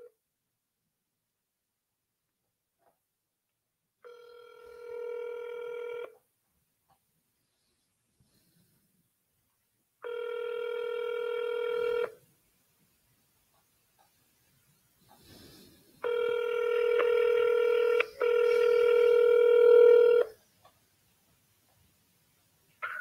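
Telephone call ringback, three separate ringing tones spaced apart and then a longer doubled ring, clear and isolated against near silence.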